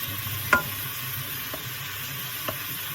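Chopped garlic sizzling in a pan for curry, a steady close hiss of frying with a few soft knocks from stirring, no voices.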